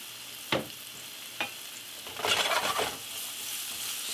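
Minced garlic is tipped into a hot pan and starts frying for an eggplant sub. Two sharp dropping taps come first, then a close burst of sizzling that settles into a steady, moderate hiss.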